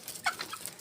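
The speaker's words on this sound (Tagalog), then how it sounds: "Ito nga pala yung mga huli natin na labuyo" A captured red jungle fowl gives a brief, soft cluck, faint and close, with little else around it.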